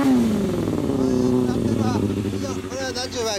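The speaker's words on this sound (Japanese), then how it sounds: "エンジン音聞かせてもらえる。" A Yamaha TW225 motorcycle engine with a SuperTrapp aftermarket exhaust idles and revs up close, a loud, throaty rumble with rising and falling pitch, while people talk over it.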